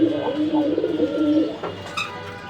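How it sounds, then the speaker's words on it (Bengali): A racing pigeon on a table gives close, rolling coos in a quick repeating rhythm, followed by a softer pause and a faint chirp. "টেবিলে এই কবুতরটা"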